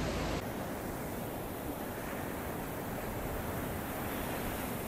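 Sea waves roll onto the shore at Karasu beach on the Black Sea coast of Turkey, a steady, broad wash of surf with a soft wind hiss, continuous and fairly close, with no voices.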